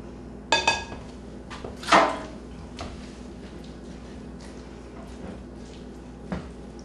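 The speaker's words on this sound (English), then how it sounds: "we're going to take half of the cheese, about 1 cup of it, and we'll stir it all together" A spoon scrapes and clinks against a dish as cheese is stirred into a home-cooked dish, giving a few sharp metallic taps followed by softer scraping in a quiet kitchen.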